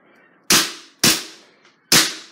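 Three sharp, loud Luger BB gun shots crack at close range into a laptop, spaced about half a second apart with short decays between them.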